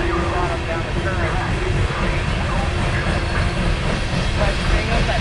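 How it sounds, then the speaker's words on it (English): A freight train with four helper locomotives rolls past in a loud, continuous rumble and roar of wheels and engines that holds steady from start to finish. "that train has four helpers"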